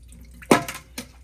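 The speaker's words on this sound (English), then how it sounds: "I'm going to strain the water here." Water strained from soaked Kashmiri chilies: a brief close splash and pour followed by a second short splash, moderately loud, with nothing else around it.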